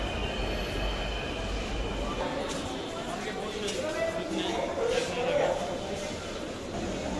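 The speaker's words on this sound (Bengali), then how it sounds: "এই ট্রেনটি মাত্র আসলো" A metro train rumbles and whines as it pulls into a station platform, with a brief wheel squeal and people talking nearby.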